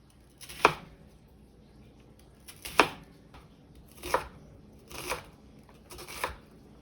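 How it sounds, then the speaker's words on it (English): A knife chops an onion for Salisbury steak gravy in five separate sharp cuts spaced about a second or more apart, each a crisp close thunk on the board with no talking. "Now I'm going to cut up an onion."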